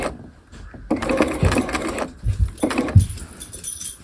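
A sewing machine stitches a bound buttonhole on a half-scale jacket: close, loud runs of rapid mechanical whirring and needle chatter that start and stop in short bursts, with brief pauses between them.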